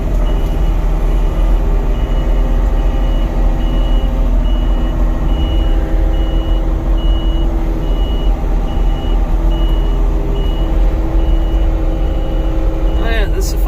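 A tracked machine working a wet woodyard gives out steady, loud mechanical engine noise, while a reversing alarm beeps in an even repeating pattern through most of the stretch.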